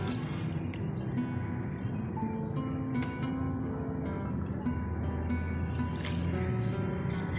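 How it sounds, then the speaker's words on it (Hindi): Cooked noodles are washed in cold water, with soft splashing, dripping and squishing sounds of handling wet noodles, steady and close, with no talk. "नूडल्स को मैंने गर्म पानी से निकाल लिया है, अब इसे हम ठंडे पानी में डालेंगे और अच्छे से वॉश कर लेंगे।"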